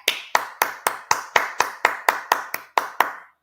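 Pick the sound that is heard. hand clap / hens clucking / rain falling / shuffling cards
hand clap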